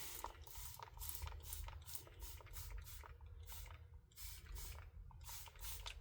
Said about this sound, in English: Let's go ahead and give this a spray